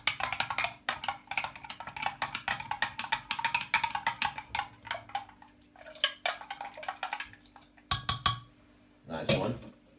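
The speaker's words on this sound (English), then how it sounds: "Just a little bit more of the fiber and just put it inside of it and give it a lovely mix." A spoon stirs fiber into a drink in a glass, giving rapid close clinks and scrapes in busy bursts that pause and then return, with a short louder clatter near the end.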